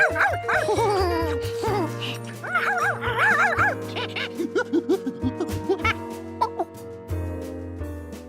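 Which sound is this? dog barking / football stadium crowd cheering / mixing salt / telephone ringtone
dog barking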